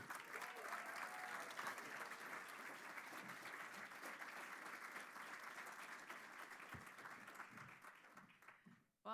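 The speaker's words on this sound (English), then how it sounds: "Jennifer, Give Jennifer a round of applause." Audience at a distinguished alumni awards ceremony giving sustained applause, a fairly faint, even roar of many hands that carries for about nine seconds before fading out abruptly at the end.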